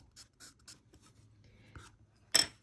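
Soft charcoal pencil drawn across paper in a few short, quiet scratchy strokes with pauses between them, ending in one louder, brisker rasp.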